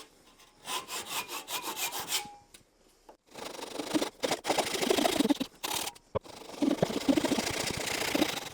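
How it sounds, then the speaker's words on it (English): A hand saw cuts wood for a cross half lap joint: a run of quick rhythmic strokes, a short pause, then longer, steadier sawing in bursts, close and loud with no talking. "I'm going to make a few cuts in the middle just so it's quicker to chisel out the waste"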